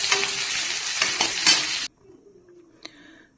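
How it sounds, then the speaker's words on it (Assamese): Onions frying in hot oil in a karahi, a dense loud sizzle with stirring scrapes for about two seconds, then cutting off to near quiet with a faint hiss and one brief clink. "পিঁয়াজখিনি এতিয়া তেলত দি দিলোঁ"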